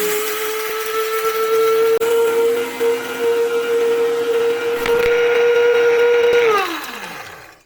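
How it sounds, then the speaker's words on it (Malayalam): A powerful mini grinder runs with a loud, steady motor whine for about six seconds, then winds down and coasts to a stop at the end. "പവർഫുള്ളായിട്ടുള്ള ഗ്രൈൻഡറും മിക്സിയും കൂടെ നോക്കാം."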